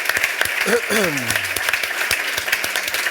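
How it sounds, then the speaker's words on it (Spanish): An audience at a Spanish-language book presentation event breaks into applause, a dense clatter of clapping lasting throughout with a voice briefly rising over it. "solo por eso, un aplauso enorme para Luis Carvajal"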